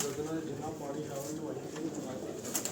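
Pigeons coo steadily in a loft, soft throaty calls overlapping throughout, with faint voices murmuring in the background.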